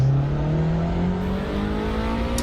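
A car engine in Assetto Corsa revving steadily upward in pitch, a loud continuous drone rising through the whole stretch with no talk.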